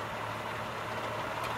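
A big black Lincoln car idles in a video game, a steady low engine hum with a faint rumbling texture that runs continuously at moderate volume, with no speech over it.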